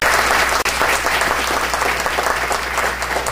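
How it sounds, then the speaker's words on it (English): Loud, dense applause from an audience at a ward candidate forum, steady clapping filling the room throughout with a single brief dropout near the start. "let's give a round of applause to Mr. Professor Ted Williams"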